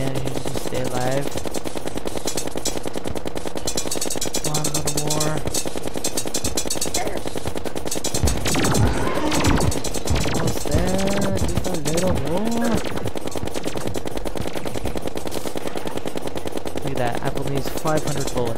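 Rapid gunfire in Terraria, a continuous stream of quick shots over busy game music and effects with whooshing and sliding tones, steady and loud throughout.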